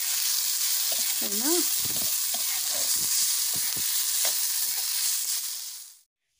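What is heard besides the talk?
stirring fish curry with turmeric and red chili frying in pan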